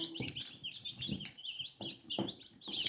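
Young chicks of the Spanish chicken breed cluck and chirp close by, several birds calling in short, uneven bursts with no voices.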